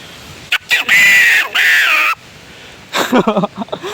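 A pakakak horn blares a harsh, crow-like imitation of a rooster call, then a few shorter broken honks follow after a pause.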